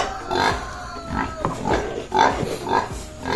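A backyard pig grunts repeatedly while eating breeder feed mixed with a little water: close, loud snorts and grunts in an irregular, chomping rhythm.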